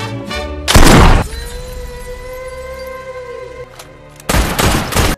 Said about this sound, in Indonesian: tanpa diduga Michael tertembak demi menyelamatkan Sonia